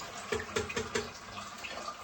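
Water is scooped and poured out of a toilet cistern during repair of the flush mechanism, a few short close splashes and drips in quick succession in a small bathroom.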